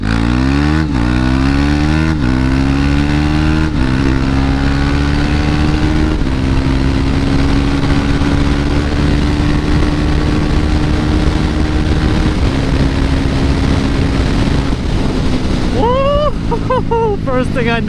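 A KTM 390 Duke motorcycle accelerates hard from a standstill to 80, its loud, close engine climbing in pitch through several quick gear shifts before a final high rev near the end.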